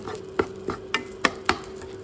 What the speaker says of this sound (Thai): ผัดจนกว่าจะเป็นสีน้ำตาล